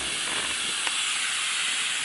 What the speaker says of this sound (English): So as it steams, flip when steam appears.